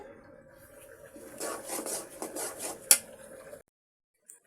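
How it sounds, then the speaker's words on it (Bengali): A spoon stirs chickpea dal halwa in a pan, giving soft scraping and clinking strokes for a few seconds, with one sharp knock near the end before it falls quiet. "এখন আমি সুন্দর করে নেড়ে নিচ্ছি"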